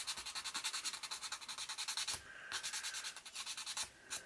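Hand sanding of chipboard charm pieces, a soft rhythmic scratchy rubbing in quick back-and-forth strokes with a brief pause midway, quiet and close, with no voices.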